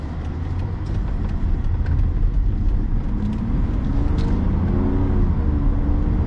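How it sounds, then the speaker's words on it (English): A car engine idling, a steady low rumbling hum that stays even and fairly loud throughout with no revving. "Right now the car is at idle."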